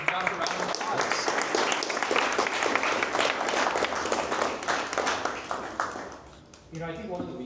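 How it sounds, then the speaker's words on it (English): Workshop audience in Houston applauds Josh, a steady burst of many hands clapping that runs for several seconds, with talk mixed in, then fades out near the end. "All right, everyone give Josh a round of applause."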